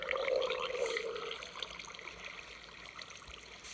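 Steady flowing water in Minecraft, a continuous trickling stream with a brighter splashy burst early on that settles into a softer, even flow, heard alone.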